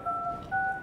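Two dual-tone dialing beeps from a Jolla phone running Sailfish, each held for about a third of a second with a short gap between them, clear and close against quiet room tone.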